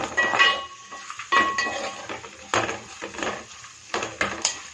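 A utensil scrapes and clinks against a pan while coriander powder masala is stirred into fish curry, with repeated metallic scraping strokes in irregular bursts and faint ringing clinks, moderately quiet and without speech.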